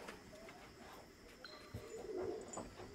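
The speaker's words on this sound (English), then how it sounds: "it looks like there might be a pigeon over there" A pigeon coos faintly in the video game Endling, soft and distant beneath low background ambience.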